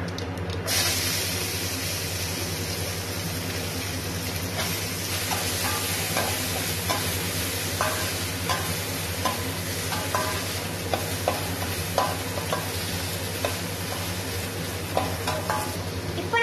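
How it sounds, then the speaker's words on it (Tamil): Onions and cashew nuts frying in oil in a pan, a steady close sizzle with repeated scraping stir strokes throughout, no voices. "இப்போ நம்ம இதெல்லாம் ஆனியன் ஆட் பண்ணிக்கலாம்."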